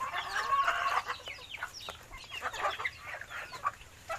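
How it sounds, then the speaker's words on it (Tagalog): Several chickens being fed on a farm cluck and chatter close by in busy, overlapping bursts, with an occasional sharper squawk among them. "Ayan, papakain tayo ng manok."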